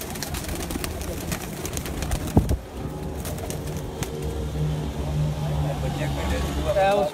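Pigeons coo on a rooftop in Kharian, Pakistan, with low soft calls under near-continuous men's conversation. A vehicle passes faintly in the background.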